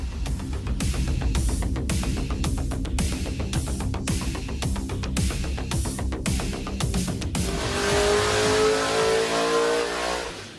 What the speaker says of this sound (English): Let's go to the dyno and see what happens